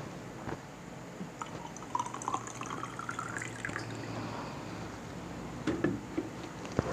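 Hot water being poured and mixed with cold for a coffee and lemon drink, a steady trickle with scattered drips and small splashes close by, no voices.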